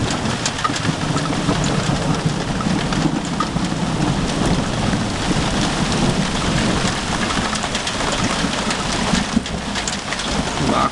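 A summer thunderstorm brings steady heavy rain pouring on surfaces with low rumbling thunder underneath, continuous and loud throughout with no speech.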